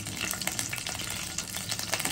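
Curry leaves crackle and sizzle in hot oil in a kadai, a steady, close frying hiss with small popping bursts throughout, no voices.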